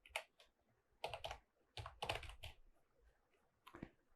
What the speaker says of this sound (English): So let's type in the name of the directory we just created.